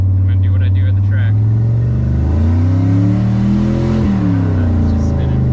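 A car engine on an EFI setup revs up through the gears during a data-logging pull, a loud close rising drone that climbs and then drops.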